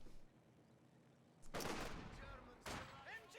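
MG42 machine gun fire in a World War II video game, two loud bursts of rapid automatic shots at close range after a quieter opening.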